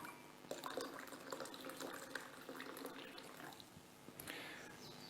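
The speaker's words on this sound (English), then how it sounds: "in this jar I'm putting now, I hope you can see, it's hot water, steaming out a bit" Hot water poured into a glass jar, a steady splashing, filling trickle with a few clinks, close by and moderately loud, running continuously for about five seconds with a brief surge near the end.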